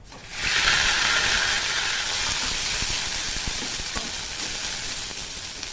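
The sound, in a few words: ground bottle gourd leaves added to frying garlic in oil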